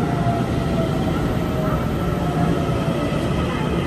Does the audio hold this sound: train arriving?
yes